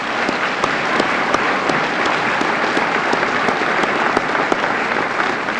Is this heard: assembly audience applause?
yes